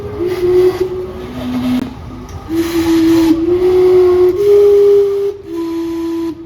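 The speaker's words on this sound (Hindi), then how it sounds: "ये क्लॉक हर 15 मिनटों बाद सीटियां मारती है अपने कुकर की तरह।" The Gastown steam clock in Vancouver blows its steam whistles: loud, sustained whistle tones that shift pitch in several long blasts over hissing steam and street noise, with no talking.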